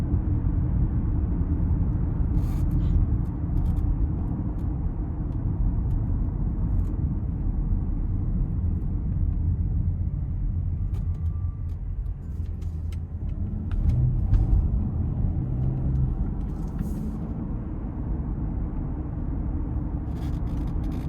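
Inside a 2024 Porsche Cayenne Premium Package Plus driving on the road in normal mode, a steady low engine and road rumble fills the cabin with a constant, even drone and no talking.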